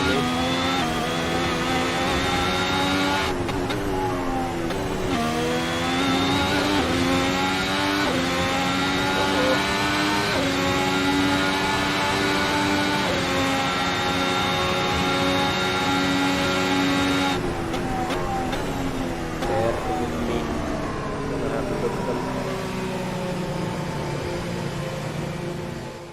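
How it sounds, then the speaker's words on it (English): A Ferrari SF70H Formula 1 engine at Monza in the video game Assetto Corsa drones continuously with a high, buzzing whine, its pitch shifting abruptly a few times as if changing gears, loud and unbroken. "So I've reduced the sound of the car now."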